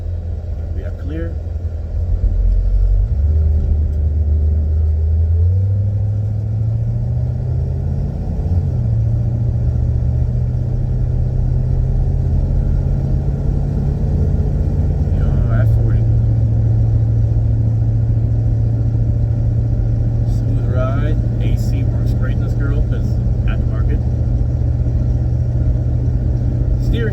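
A restored 1968 Ford Galaxie 500 on the road with worn steering and a gearbox needing replacement, its engine rumbling loud and close, pulling up through gears with rising pitch, someone talking over it.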